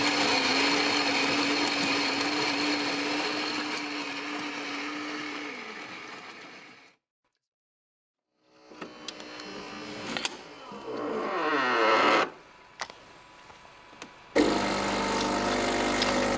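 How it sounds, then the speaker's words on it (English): Coffee machine running, a loud droning motor that fades out into silence, then a rising whir and grinding rumble with a few clicks and knocks before the machine noise returns abruptly, no voices. "Now we have the sound of coffee in the making"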